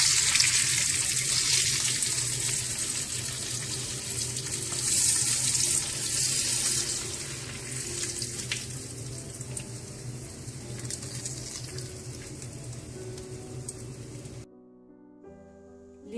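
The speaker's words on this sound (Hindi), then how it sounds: "इसी तरह से आप सारे कबाब तल लें।" Chapli kebabs frying in a pan give off a steady, crackling sizzle with a constant hiss that holds at a moderate level, then cuts off abruptly near the end.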